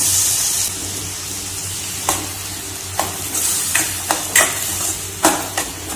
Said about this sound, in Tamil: தக்காளி விழுத சேர்த்துக்கலாங்க.